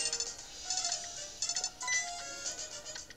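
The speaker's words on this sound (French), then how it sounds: "Son téléphone." A phone rings in Pokémon Alpha Sapphire as a repeated, bright electronic chirping jingle over soft game music, in several short bursts.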